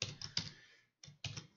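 Close clicks of a computer keyboard while coding in Python, several quick keystrokes in two short bursts separated by a brief pause.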